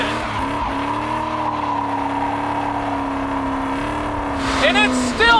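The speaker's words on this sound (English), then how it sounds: "And it still does great burnouts." A 1972 Chevrolet Nova does a burnout, its engine holding a loud, steady roar before tire squeal and revving break out near the end.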